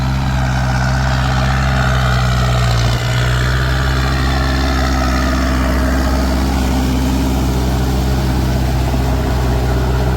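A Hino truck engine fitted with a new turbocharger runs loud and steady nearby, a continuous deep rumble with a mid-range whine and no talk.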